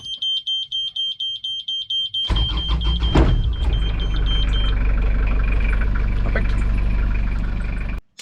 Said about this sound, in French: je vais faire chauffer mon moteur